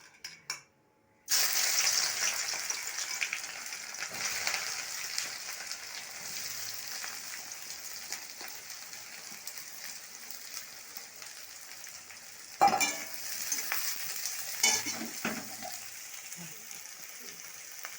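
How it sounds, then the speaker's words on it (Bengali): Onion frying in hot oil in a wok, a steady close sizzle that runs almost the whole way after a quiet start and flares up louder near the end. "কড়াইয়ে তেল দেওয়া হয়েছে তেল গরম হয়ে গেছে এবার পেঁয়াজটা দিয়ে দেবে"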